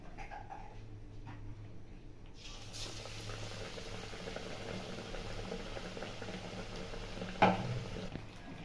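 Bread pakora deep-frying in oil over a low gas flame, a steady bubbling hiss that swells after a quiet start, with a brief clatter near the end.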